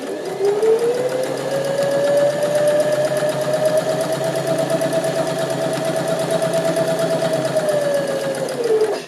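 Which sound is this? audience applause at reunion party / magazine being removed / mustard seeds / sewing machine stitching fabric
sewing machine stitching fabric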